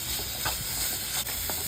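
Paneer cubes frying with a little salt in a pan for paneer butter masala, a steady close hiss and sizzle with faint crackles and no talk.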